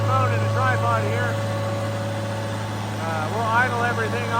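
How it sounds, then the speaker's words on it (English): A tractor engine idles steadily on a dynamometer after warming up, a low constant mechanical hum with a tonal drone, while someone talks over it. "Tractor's warmed up now"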